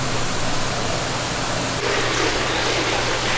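Waterfall at the Venetian Pool in Coral Gables, Florida, a steady close rush of falling water that fills the whole clip with broad, even noise and nothing else.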